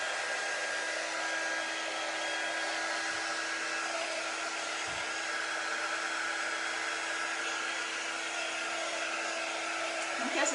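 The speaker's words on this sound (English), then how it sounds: "take our quick dry tool and just give it a good dry, just to get any extra moisture off of there" A quick dry tool blows air to dry off a surface, giving a loud, continuous, even whoosh that holds steady from start to finish with no talking.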